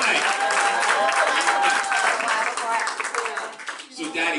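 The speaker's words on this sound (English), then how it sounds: "Give them a round of applause." Studio audience applause on a family game show, a dense, steady wave of clapping that swells and then thins out near the end, with some voices mixed in.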